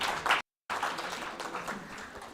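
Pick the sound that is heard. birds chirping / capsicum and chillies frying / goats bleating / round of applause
round of applause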